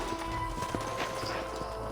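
Horses' hooves clip-clopping in the video game Red Dead Redemption, a steady run of close hoof beats over background music and ambience.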